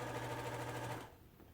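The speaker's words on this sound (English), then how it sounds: "load it into your sewing machine and line it up so that it's straight" A sewing machine stitches a stocking cuff hem in a steady, fast mechanical whir that runs for about a second and then stops, close and fairly quiet.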